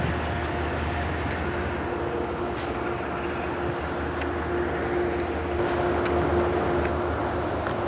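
Steady low diesel rumble of an idling locomotive with a GE 12-cylinder 7FDL engine, constant and droning, with faint higher hiss and occasional clicks; no voices.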